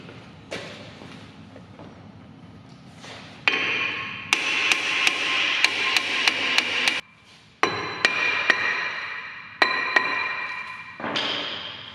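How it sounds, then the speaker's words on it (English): Loud metallic hammer strikes ring out in irregular bursts as a worn front brake rotor is knocked off a Peugeot 207, several quick blows in a row with short pauses between, no talking. "before we go ahead and try to hammer it out"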